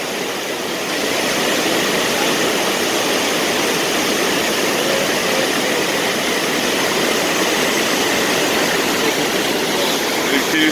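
Steady, loud broadband rush of a waterfall pouring over mossy rock layers, continuous and close for the whole stretch, with no voices over it.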